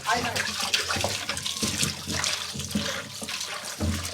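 Tap water runs and splashes nearby as items are washed by hand in a kitchen, with irregular clatter and gurgling bursts throughout.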